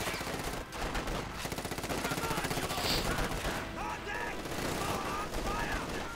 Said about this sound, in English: MG34 firing support as well, suppressing the conscripts ever so lightly